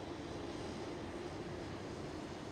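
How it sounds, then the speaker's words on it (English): A TUI Boeing 767 airliner flies at Schiphol Airport, its engines giving a steady, even, distant roar that holds constant throughout. "This is the TUI 767 with a short hop from Frankfurt to Amsterdam."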